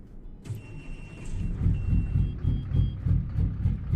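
Truck engine starting up in American Truck Simulator, a beep followed by a rising cranking rumble that settles into a steady chugging idle, close and moderately loud, with no voices.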